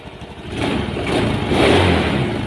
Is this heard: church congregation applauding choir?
no